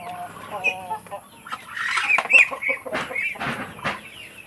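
Chickens cluck and squawk close by on a livestock farm, with a rooster's calls among them, several birds sounding in a busy, uneven chorus.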